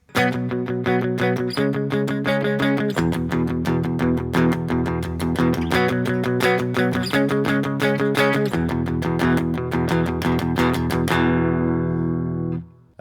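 Electric guitar strums the three verse chords of a song, sustained and steady, with a few chord changes before the last chord rings out and is cut off.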